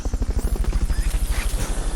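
A rescue helicopter in Metal Gear Solid Peace Walker throbs with a fast, steady rotor beat and a heavy low thump, holding constant and close for the whole stretch.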